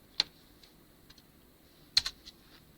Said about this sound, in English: I'm going to type to find this answer.